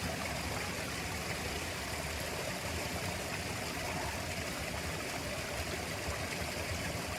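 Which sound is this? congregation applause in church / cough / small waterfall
small waterfall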